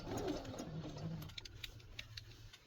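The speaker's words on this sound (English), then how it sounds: "I am going to take few stitches straight, and then from here I'm going to start creating pleats" Sewing machine stitching pleats into fabric for a baby girl's frock neckline, a short quiet whirring burst that settles into a few soft ticks as the needle slows.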